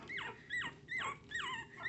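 Silky-Tzu Terrier puppies whimpering close by: four quiet, high whining cries that slide downward, evenly spaced at roughly half-second intervals.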